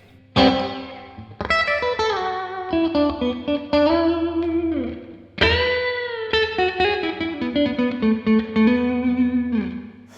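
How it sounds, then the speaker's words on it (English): Electric guitar played up close through a Crazy Tube Circuits Splash MK 3 pedal on its spring reverb setting, with bright plucked notes and bends ringing out in a wet, splashy tail; no one speaks. "next we'll go on to the spring reverb setting"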